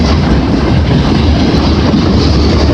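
A CN freight train from Sarnia, Ontario rolls into London East Yard in winter, a loud, close, continuous rumble of wheels and rail cars with clickety-clack over the track joints and no voices.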